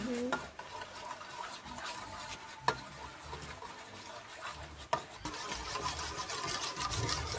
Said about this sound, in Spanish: revuelve hasta disolver la leche